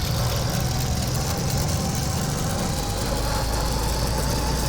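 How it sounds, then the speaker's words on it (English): A steady car engine in a driving simulator, a LEGO Technic 8865 Test Car, drones at high revs, with a constant mechanical whine and faint plastic gear noise running throughout. "Oh, you hear the plastic gears."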